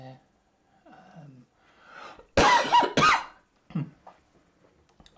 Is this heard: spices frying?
no